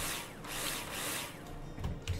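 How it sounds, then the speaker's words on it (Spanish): Power drill in the building game Builder Simulator, a steady whirring drone with rising and falling intensity, ending in a couple of short bumps near the end. "Ahora sí, taladro."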